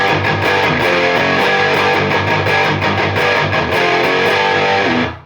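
Electric guitar played through a Rat distortion pedal, loud sustained high-gain chords with rhythmic strummed accents, ringing continuously before cutting off at the end.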